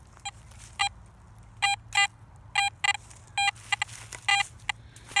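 A Garrett AT Max metal detector sounds short electronic signal tones outdoors, a series of quick chirps in irregular clusters, some doubled, repeating through the clip over a low background hum.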